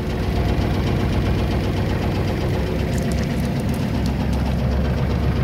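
A Kubota GT23 compact tractor engine idles steadily and evenly, with a low continuous rumble and faint knocking throughout.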